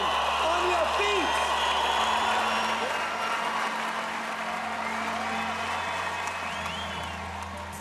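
A large arena audience greets Muhammad Ali with sustained applause and cheering, a dense roar of clapping and whoops that stays loud and gradually eases, with a voice and music mixed in.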